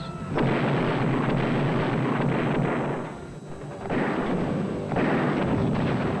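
Loud, dense booming explosions and gunfire-like blasts from a 1995 action movie trailer about a mad bomber, rolling continuously with a brief dip in the middle before surging again.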